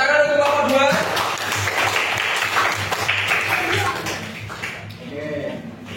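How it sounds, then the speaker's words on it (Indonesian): A sixth-grade class claps for a presenting group in a classroom, a loud, close burst of many small hands that gradually thins, with voices mixed in. "Ya, tepuk tangan untuk kelompok 2."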